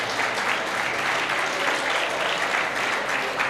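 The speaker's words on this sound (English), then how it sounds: "Colleagues, may we clap hands for these teachers?" An audience at an education awards ceremony applauds teachers, a dense and sustained round of clapping that holds at an even, fairly loud level throughout, with no speech over it.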